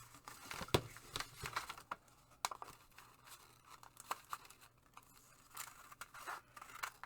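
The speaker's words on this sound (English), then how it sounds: "Time for the big scissors." Big scissors cut through paper in a series of quiet crisp snips and crinkles, irregular strokes spread across the clip with short pauses between.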